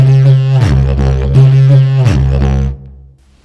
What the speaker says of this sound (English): It sounds like this on a didgeridoo.